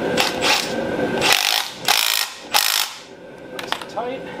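A ratchet tightening a 16 mm bolt on a Subaru GC8 sway bar and control arm setup, giving several loud, close bursts of rapid clicking strokes separated by short pauses.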